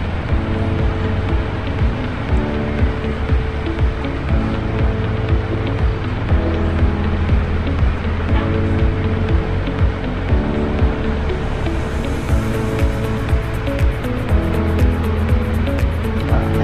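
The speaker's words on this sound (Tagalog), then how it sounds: "Traffic na guys." Street traffic in Pasay heard from a moving motorcycle taxi, a dense continuous rumble of engines and road noise with wind buffeting, loud and close throughout.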